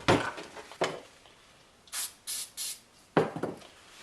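Brake cleaner sprayed from an aerosol can onto weed trimmer clutch parts, several short sharp hissing bursts separated by pauses, with a few faint rubbing handling sounds between them.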